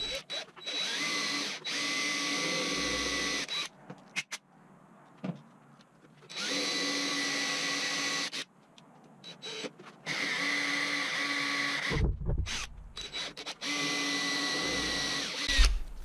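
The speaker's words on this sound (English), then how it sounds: "trying to drill in, that drill jumps all over the place" A power drill whirs in several sustained bursts into a wooden stair tread, stopping and restarting with short gaps between, fairly close and steady in pitch.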